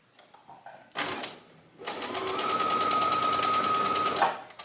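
A sewing machine stitches pleats down on a dress, a brief burst of whirring, a short pause, then a longer steady close run of rapid motor hum and needle clatter that stops abruptly.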